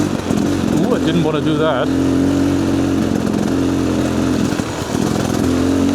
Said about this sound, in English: Luckily we have an off-road bike